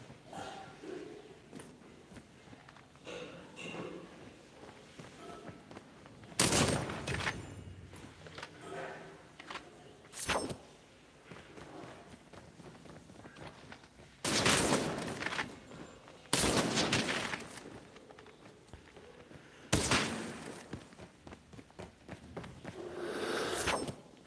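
Gunfire in the Call of Duty Mobile video game, several loud broadband shots and short bursts separated by quieter stretches, set against a low game-ambience bed.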